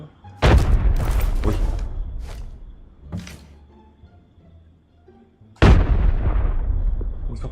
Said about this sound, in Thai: ระเบิดใส่กันมา